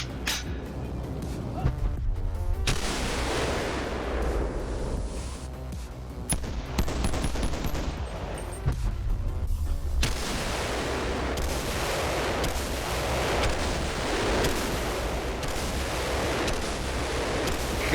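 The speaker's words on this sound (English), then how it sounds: "Next up is the deep fried Glock." A deep fried Glock pistol firing in the VR game BONELAB: a continuous, loud, heavily distorted barrage of rapid shots that keeps going for the whole stretch, with brief dips and little gap between bursts.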